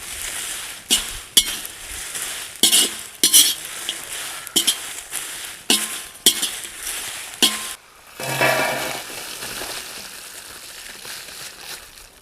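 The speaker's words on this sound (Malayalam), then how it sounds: "ഇത്രയും കൂടി ചേർത്ത് നമുക്കിതിനെ നല്ലപോലെ വറുത്തെടുക്കാം." Whole spices such as cumin, peppercorns, star anise, mace, cinnamon and bay leaf roast in a pan, with repeated sharp scraping stirs and clinks, then a softer, steadier sizzle near the end.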